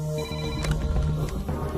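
A telephone rings briefly with bright, repeating tones over a low hum, close and fairly loud.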